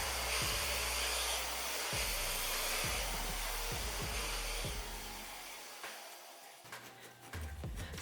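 A blow dryer roars steadily up close while smoothing the bangs of a pre-styled wig, a constant breathy whoosh that shifts slightly in pitch toward the end.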